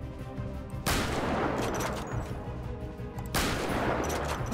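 Two sudden, loud gunshots in GTA roleplay, the first bursting in after a quiet moment and ringing on, the second following a few seconds later.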